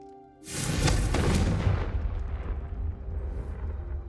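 A Confringo fire spell explodes in the Hogwarts Legacy video game: a sudden loud boom with a long rumbling decay that fades slowly over several seconds, with no other sound over it.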